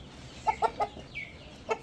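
A rooster gives a few short, close clucks, three in quick succession and then one more after a pause, over a quiet background.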